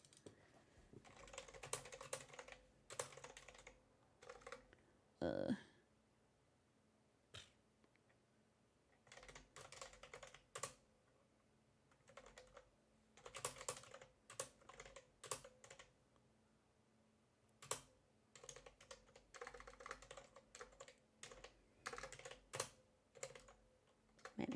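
Keys clatter on a computer keyboard in bursts of quick typing with short pauses, fairly quiet and close, with one sharper knock partway through and no voices.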